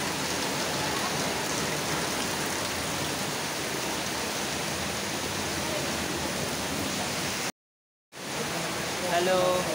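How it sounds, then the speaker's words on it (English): Steady rain falling at a pet sanctuary in Bangalore, an even hiss of drops on surfaces filling the whole scene, cut by a brief silence near the end before resuming. "Rain is started."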